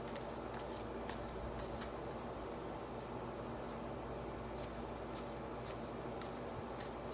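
Tarot cards being shuffled in quick, soft riffling bursts, a steady papery rustle with faint background hiss and no talking.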